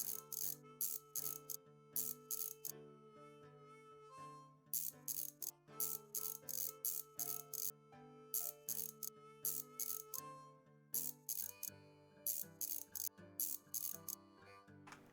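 In the Tank Mechanic Simulator video game, a tool unscrews bolts in repeated short bursts of rapid ratcheting clicks over a quiet tonal background, with no talking.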